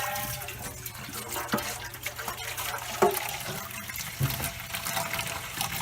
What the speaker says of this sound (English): I'm going to fill it with hot water, with cold water. Going to rinse it.